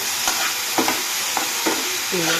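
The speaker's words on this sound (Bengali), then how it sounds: "আমি ক্যাপসিকাম, আলু আর কাঁচা লঙ্কা, পেঁয়াজ দিয়ে এই ছোলাটা ফ্রাই করছি" Chickpeas fry in a pan with capsicum, potato, green chili and onion, giving a steady sizzle broken by several sharp scrapes and stirs of a spatula, close and fairly loud.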